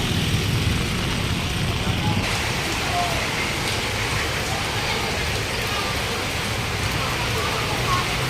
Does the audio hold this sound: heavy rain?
yes